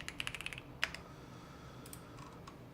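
Keystrokes on a Bubble 75 mechanical keyboard fitted with Aqua King switches clatter in a quick burst of clicks, then a few scattered, quieter taps follow after a pause, close and clear with no talking.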